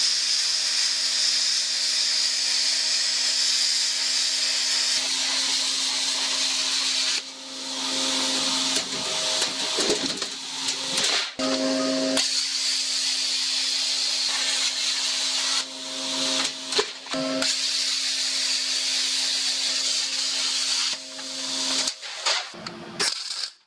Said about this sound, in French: mes deux bouts de tôle sont pointés